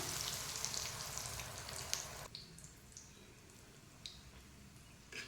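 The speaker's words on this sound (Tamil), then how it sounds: "ஸ்லோ ஃப்ளேமில் இந்த பாலை போட்டு ஃப்ரை பண்ணிக்கலாம்." Raw banana kola balls fry in oil over a slow flame, crackling fairly loudly at first, then settling into a quieter, steady sizzle with scattered pops.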